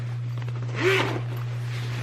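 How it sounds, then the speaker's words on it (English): A zipper on a nurse practitioner's medical bag is drawn open in a single quick pull, a close, crisp rasp lasting under half a second over a steady low hum. "So there's another zipper"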